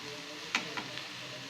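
Side dish for neer dosa sautéing in a pan, a soft steady sizzle with a few brief stirring scrapes, close and fairly quiet.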